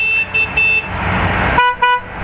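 Motocross bike horns honk at the start of a Super Finale at the Antoing Cross Festival 2015, a chorus of loud, repeated short toots and blasts in uneven bursts over a steady engine drone.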